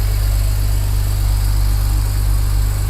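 A BMW 335i with the N54 engine and a hybrid 17T turbo idles on its first start, a steady low rumble with constant vibration and no change in pace, close and loud throughout.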